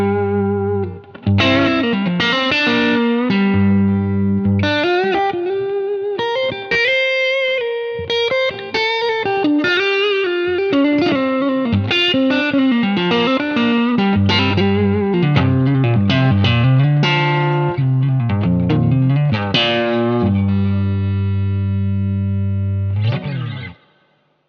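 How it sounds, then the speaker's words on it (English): An electric guitar played through a Paul Cochran Tim overdrive pedal, a fairly transparent, dynamic overdrive with moderate gain, heard close in a continuous passage of chords and single-note lines that ends with a final strum. "Next overdrive in the chain is actually the Paul Cochran Tim."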